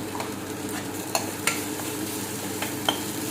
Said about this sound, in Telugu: ఇందులో తగినంత ఉప్పు, కొద్దిగా పసుపు వేసుకొని కలిపేసుకొని